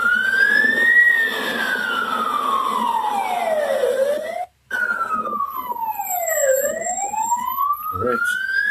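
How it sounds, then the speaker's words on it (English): A loud wailing siren sweeps slowly down and up in long cycles, cutting off briefly before resuming, with a faint voice underneath. "Change it to my ambulance sound."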